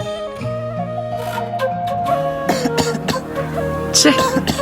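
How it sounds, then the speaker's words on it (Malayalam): A few short, harsh smoker's coughs break through over a steady musical background, close and moderately loud. "എന്ത് ചുമയാണ് ഇത്?"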